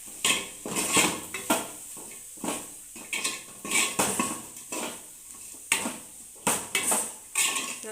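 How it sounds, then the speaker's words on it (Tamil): A spoon scrapes and knocks repeatedly in a pan, sautéing chili powder in oil for a mutton dish. The rhythmic metallic stirring strokes are close and prominent, with only a light sizzle underneath and no speech. "நல்லா அந்த எண்ணெயிலே வதங்கணும்."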